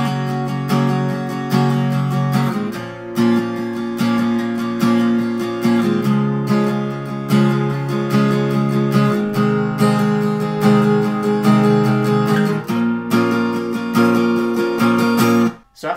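Acoustic guitar strumming chords steadily in a rhythmic pattern, loud and close, changing chords every couple of seconds with no talking.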